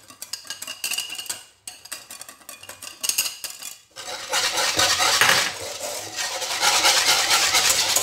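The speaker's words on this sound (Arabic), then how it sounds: "ونخلط كلشي بالفوي مزيان" A whisk scrapes and clinks against a pot of peach dessert mixture with cornstarch, first in short bursts with pauses, then in louder, continuous brisk stirring.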